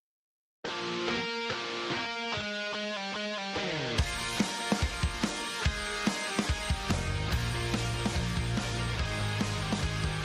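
Full-band rock song, opening with a bright keyboard-like riff before drums and distorted guitars kick in around four seconds, loud and steady with punchy beats throughout.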